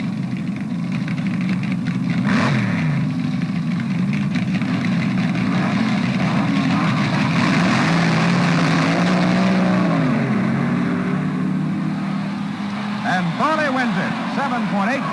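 Engines roar continuously from a 1967 NHRA funny car drag race final between a Corvair and a Camaro, heard with rising and falling pitch sweeps under a commentator's voice.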